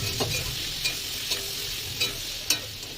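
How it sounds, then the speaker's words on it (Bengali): Pointed gourd pieces fry with turmeric in a pan under a soft, continuous sizzle. A spoon scrapes through them in five or six distinct strokes, near and clear, with no voice. "দিয়ে আরো কিছুক্ষণ ভেজে নেবো পটলটা"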